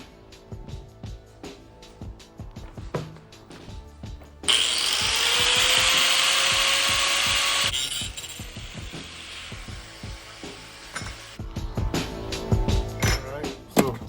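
A power tool cuts steel template pieces for a front bumper build, a loud sustained grinding whine lasting a few seconds amid clattering handling noises and scattered knocks before and after.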